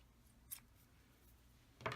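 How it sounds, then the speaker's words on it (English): Scissors snip a strand of knitting yarn, giving a faint, brief click followed by a slightly louder snip near the end in a quiet room. "we're just going to snip the yarn"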